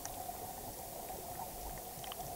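Air bubbles released by divers deep underwater in the Red Sea make a continuous muffled bubbling hiss with a faint steady tone running through it, low and even throughout.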